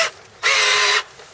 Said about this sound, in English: This is actually when you're drilling with the drill bit.